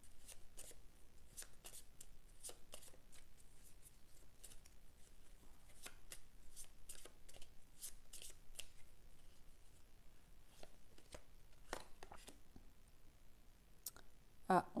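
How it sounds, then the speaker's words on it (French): Quiet, close riffling and soft clicks as oracle cards are shuffled and drawn, a string of brief crisp bursts scattered over a faint hiss. "On va tirer une carte complémentaire, une couleur pour avoir plus d'informations"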